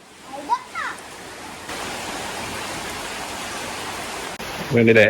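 Steady broadband hiss of rain pours throughout, with a brief voice-like sound near the start and a louder tonal burst at the very end.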